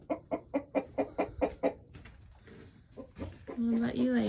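Chickens and a big rooster settle in a dark coop at roosting time, giving a run of about eight rhythmic close clucks, then shuffling and a sustained crowing call at the end, with a quiet voice in between.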